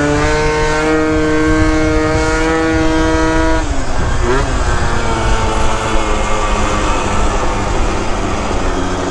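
A 70cc Zuma scooter fitted with a new CVT setup rides along a road, its engine droning loudly and steadily with rising and falling pitch, plus strong wind rush throughout.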